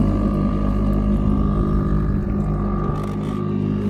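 Boat motor droning steadily on a lake, a loud low continuous rumble with a faint tonal hum, heard close for the whole stretch.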